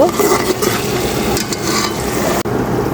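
Tomato, green chilli and spices are stir-fried in a pan before prawns are added, giving a steady close sizzle with scraping stirs throughout and a brief dip near the end.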